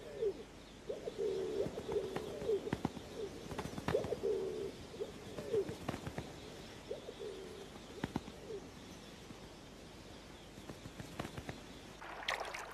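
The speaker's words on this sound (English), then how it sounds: "rock pigeons mate" Rock pigeons coo in the Drakensberg mountains of South Africa, a series of soft, low, throaty coos in a steady rhythm over faint outdoor background, with a few brief higher bird chirps near the end.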